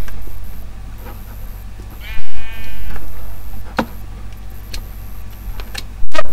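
A single sheep bleat in the video game Minecraft, a short wavering cry rising above a constant background hum, with sharp thuds nearby.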